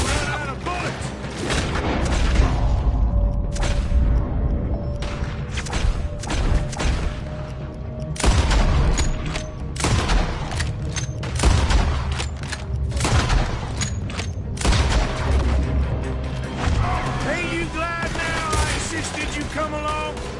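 Video game gunfight in Red Dead Redemption during a robbery shootout, with repeated loud gunshots, rapid volleys and booms through about twenty seconds, mixed with in-game voices and shouting.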